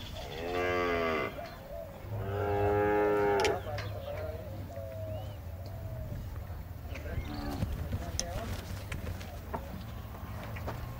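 Cattle on a ranch raising Sardo Negro and Gyr breeds moo loudly twice in close succession near the start, followed by quieter farmyard sounds and faint distant calls.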